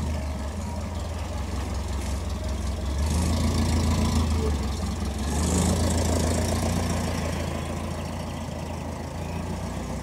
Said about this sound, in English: Here's the classic cross-flow engine